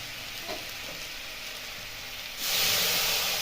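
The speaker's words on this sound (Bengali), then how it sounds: "মশলা আমার নিচে লেগে যাচ্ছে, তাই একটু আমি অল্প সামান্য জল দিয়ে কষবো।" Masala for soyabean do pyaza sautéing in a pan with a splash of water, a steady close sizzle that suddenly swells into a louder, brighter hiss of steam partway through.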